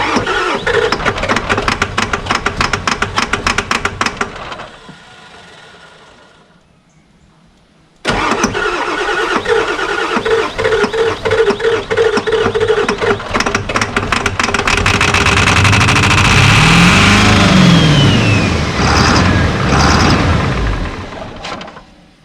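Ford F350 pickup truck that sat unused for 15 years, cranking and catching, then falling quiet before restarting and revving hard as the gas is floored, the engine loud and close with rising and falling pitch.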